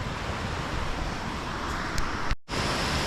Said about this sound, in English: man, those waterfalls are flowing